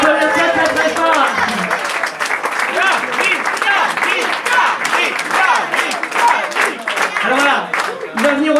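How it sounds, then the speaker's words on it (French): An audience applauds loudly and steadily for Yannick, who is about to demonstrate a choreography. The crackling clapping runs throughout, with voices and cheering layered on top. "Je voudrais que vous applaudissiez très très fort quelqu'un qui va nous permettre de mieux comprendre la chorégraphie."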